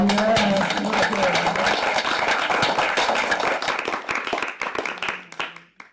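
An audience claps for a departing professor of divinity, a full round of applause that thins out and fades to a few scattered claps, with a voice speaking over the start.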